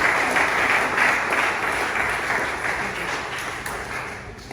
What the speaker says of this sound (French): S'il vous plaît, applaudissez la famille Cador.